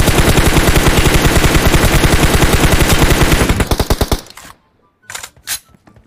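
Rapid automatic gunfire in the mobile battle-royale shooter PUBG Mobile, a loud sustained burst of closely spaced shots that cuts off abruptly, followed by a pause and a few separate louder shots.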